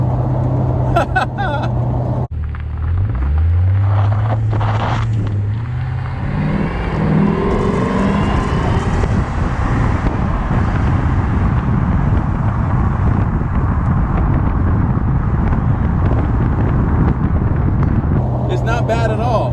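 A wrecked Ford Mustang GT with no doors pulls away and accelerates, its engine rising in pitch under heavy wind rush, while the driver talks over the noise.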